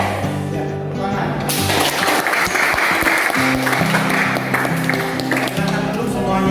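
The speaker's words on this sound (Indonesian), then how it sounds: "tepuk tangan" A classroom of high school students breaks into loud applause, many hands clapping together, and it runs steadily under a sung or chanted group melody and talk.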